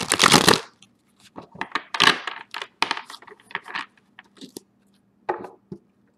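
Close tarot card shuffling for a reading: a loud opening riffle, then a busy run of crisp card slaps and flicks, ending with a few scattered taps.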